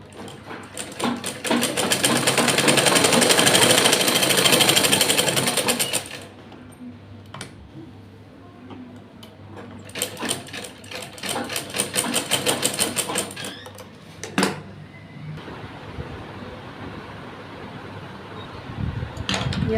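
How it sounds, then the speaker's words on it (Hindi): Sewing machine stitching a trouser pocket: a long steady run of rapid mechanical whirring, then several shorter bursts of stitching separated by pauses, close and fairly loud with no talking. "ये हमने पॉकेट में सिलाई लगा ली है।"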